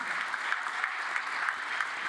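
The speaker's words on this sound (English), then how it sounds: "And a massive round of applause." A crowd applauds at a women's 10m air pistol shooting medal ceremony, a steady, even wash of clapping with no voices heard.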